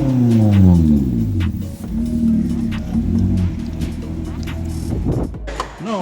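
A Honda S2000 fitted with a DC Sports intake and Spec 2 exhaust drives up, its engine drone rising and falling through gear changes, with people talking over it.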